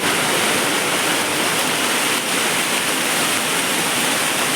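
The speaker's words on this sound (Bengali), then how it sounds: "এখন কতক্ষণ ধরে হয় বৃষ্টিটা দেখা যাক" Heavy rain pours down over rooftops, a dense continuous broadband hiss, loud and steady without pause, no voices.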